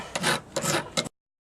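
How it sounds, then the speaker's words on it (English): A hand file rasps against a horseshoe nail being shaped into a heart pendant point, three close, scratchy strokes that end abruptly in silence. "Let's start filing in our point a bit."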